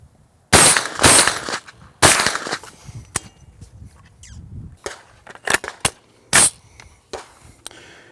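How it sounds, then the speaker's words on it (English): Sharp, close reports from a suppressed CGS MOD-9 firing supersonic and subsonic rounds, about half a dozen distinct cracks at irregular intervals with quieter clicks and handling noise between them. "we've got the MOD-9 with a supersonic and a subsonic, followed by a supersonic and a subsonic"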